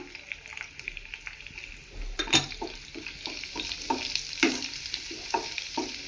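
Chopped garlic frying in a pan, a close continuous sizzle with repeated scraping stirs and a sharp clatter of a utensil partway through.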